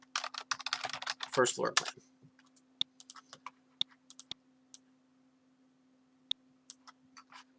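Fast keystrokes on a computer keyboard form a dense burst at the start, then slow to scattered single clicks over a steady electrical hum. A voice speaks briefly during the typing.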